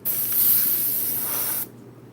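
An airbrush sprays paint onto a rose painting in a sharp, loud hiss lasting about a second and a half before cutting off abruptly.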